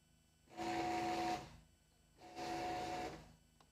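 A Cricut cutting machine cutting holographic stickers makes two separate passes of squeaky whirring motor noise, each about a second long, with a thin tonal squeal and quiet gaps between them.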